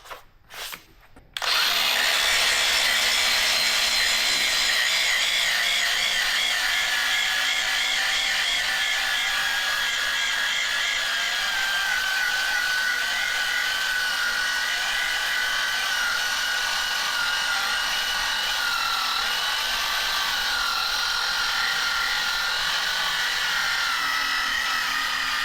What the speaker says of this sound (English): We'll grind this axle tube clean in this area here for now.